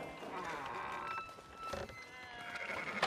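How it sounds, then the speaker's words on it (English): Sheep bleating in the video game Red Dead Redemption 2, a few wavering calls at moderate distance over soft background noise and footsteps. "Fine sheep."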